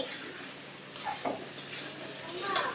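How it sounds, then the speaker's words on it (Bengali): Cauliflower, potato and rohu fish curry being sautéed in a pan, a soft sizzle beneath a few sharp scrapes and clinks of the spoon against the metal, close and intermittent, with no speech. "আমি আর একটু কষাবো"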